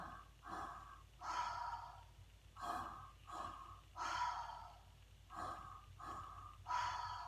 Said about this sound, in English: breathing a deep diaphragmatic belly breath in the chest, letting it go.